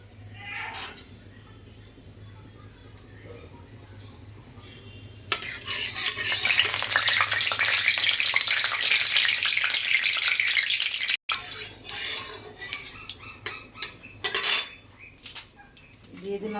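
Five-spice seeds hit hot oil in a pan and burst into a loud, steady sizzle while a metal spoon scrapes and clinks against the pan; a brief pause comes, then sharper clatters and stirring strokes.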